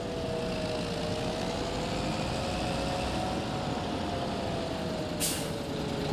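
A tractor engine in Farming Simulator drones steadily while driving toward a field, a constant close hum with a faint whine above it and a short hiss near the end.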